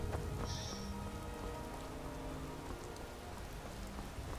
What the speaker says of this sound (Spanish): Porque no veo nada por la lluvia.